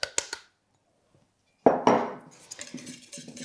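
Spoon or whisk working through a poolish batter in a bowl just after flour goes in, with a couple of sharp clinks against the bowl, a pause, then a stretch of scraping, clattering stirring.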